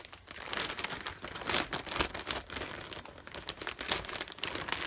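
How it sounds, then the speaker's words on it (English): Plastic Ziploc bag crinkling and rustling in bursts as baby clothes are packed into it, close and fairly loud, with no talking. "So put that in the Ziploc bag."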